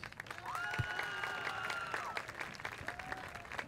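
Applause from a school crowd at a Brownsville ISD Veterans Memorial Chargers pep rally, fairly quiet and distant in a large hall, with a sustained tone ringing over the clapping for a couple of seconds.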